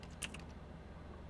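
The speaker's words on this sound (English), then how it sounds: "Am I just typing in the letters here?" A short burst of computer keyboard typing, a few quick clicky keystrokes early on, then a quiet low room hum; faint and close with no talking.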